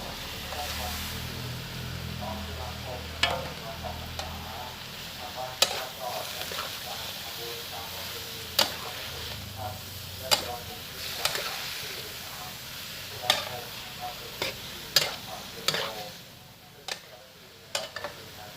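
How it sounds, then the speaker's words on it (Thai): Snow peas and shrimp stir-fried in a pan give a soft continuous sizzle, punctuated by sharp spatula clicks and scrapes against the pan at irregular intervals, with someone talking quietly. "พอผักลงไปสลดดีแล้วก็เราก็ใส่ถั่วลันเตาเลยนะครับ"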